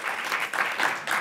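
Steady applause from a crowd, continuous and fairly dense, with the clapping swelling slightly in waves.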